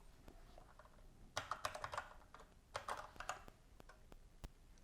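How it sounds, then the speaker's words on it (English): Typing code on a computer keyboard in a code editor, with bursts of rapid key clicks separated by lighter scattered taps, close and fairly quiet, no talking. "let's type in the following."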